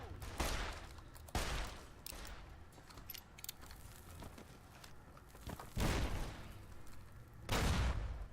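.357 revolver fire in Fallout New Vegas rings out in about five loud, sharp shots spaced irregularly, each with a short ringing tail over a quiet game background.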